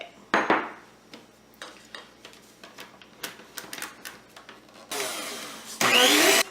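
Electric stand mixer beating vanilla, chocolate or raspberry buttercream, heard as uneven clattering bursts that end in a loud steady whirring run, close and alone with no voices.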